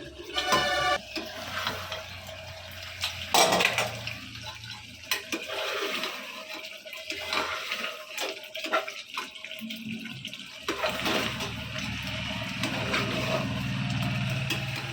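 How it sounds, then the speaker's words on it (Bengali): Water poured into a pot of simmering mutton curry in a home kitchen makes a steady rushing splash, fairly loud and continuous, with kitchen clatter and background noise around it. "মামা এখন জল দিয়ে দিল"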